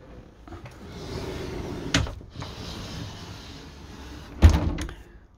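Two doors in a luxury Frankia Titan motorhome bedroom swing shut, each closing with a soft knock, one near two seconds and a louder one near four and a half, over quiet background noise.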